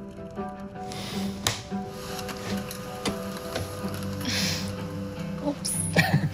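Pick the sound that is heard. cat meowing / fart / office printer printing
office printer printing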